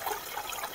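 A waterfall rushes steadily outdoors, a continuous broadband wash of flowing, splashing water filling the whole moment with no breaks or voices.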